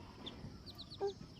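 A chicken handled by a small child gives a few faint, brief clucks at close range over a quiet background.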